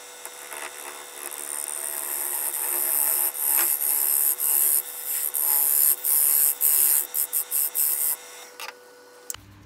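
A wood lathe cuts a tenon on a spalted beech blank, giving a steady raspy hiss of the tool against the spinning wood with a series of short, loud scraping bursts toward the end before it stops.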